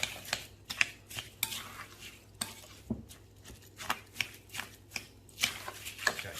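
Stuffing ingredients for stuffed grape leaves are mixed in a bowl, making soft, rhythmic wet squishes and light scrapes, close and quiet, with no talk.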